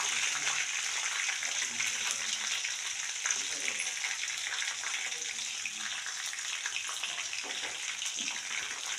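Finely chopped green chillies and cumin frying in oil for moong dal, a steady, fairly soft sizzle running throughout with light crackles.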